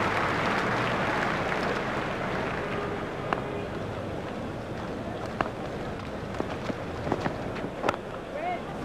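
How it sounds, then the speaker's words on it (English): A cricket crowd in the EA Sports Cricket video game cheers and roars steadily after a big shot, a dense, continuous wash of sound with a few sharper bursts over the top. "The crowd were brought to their feet by that shot"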